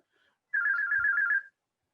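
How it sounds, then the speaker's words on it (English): An Android phone plays a ringtone, a single trilling electronic burst of about one second that stands clear against silence. "Yep, the phone is ringing."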